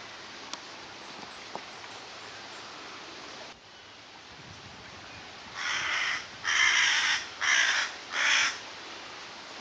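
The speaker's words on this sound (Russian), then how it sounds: "Вот ты чего каркаешь там?" A crow caws outdoors in the town of Nova Kakhovka: four loud, harsh calls arrive one after another in the second half, set against a steady, faint background hiss.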